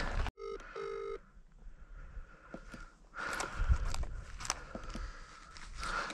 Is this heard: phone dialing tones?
yes